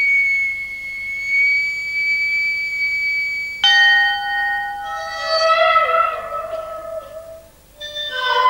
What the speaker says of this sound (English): And a ship's bell way underneath the ocean.